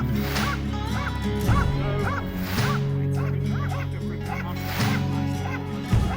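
Tracking dogs trained to trail poachers bark repeatedly in the African savanna, several sharp close barks spread across a steady background hum.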